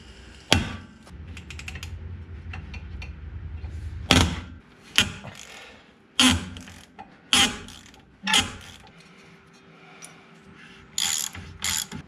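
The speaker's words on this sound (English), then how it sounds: "let's see if I can get these bottom bolts down here out" A ratchet wrench on 17 mm bolts under a Geo Tracker during a lift kit install clicks in a steady run, then several loud separate clanks and clicking bursts follow, close and sharp.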